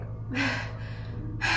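A person imitates heavy breathing with two sharp, breathy inhales or gasps separated by a short pause, fairly close and loud over a low steady background hum.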